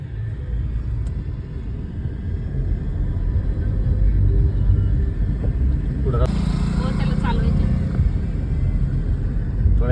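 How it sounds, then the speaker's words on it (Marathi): A car is driven along a road, heard from inside as a steady low engine and tyre rumble that grows fuller partway through, with faint voices in the cabin. "दिदी गाडी चालवते"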